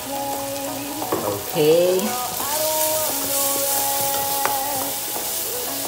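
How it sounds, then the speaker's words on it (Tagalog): Pepper sautéing in a pan for Filipino beef kaldereta, a steady close sizzle running through the whole clip with brief stirring, and a short spoken word near the start. "So, mas maganda, ginigisa na rin yung pepper."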